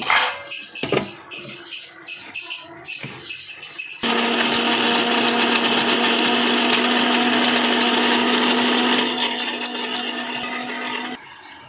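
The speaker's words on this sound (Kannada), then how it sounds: "ಕಾಯಿನ ಮಿಕ್ಸಿ ಮಾಡ್ಕೋಬೇಕು." A mixer grinder grinding roasted dry coconut whirs loudly and steadily for several seconds, preceded by a few knocks and clatters of handling before it starts.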